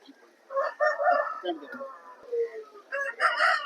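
A rooster crows at a rooster market in Vijayawada, a single long call rising and falling over a few seconds, fairly near and clear against a quiet background.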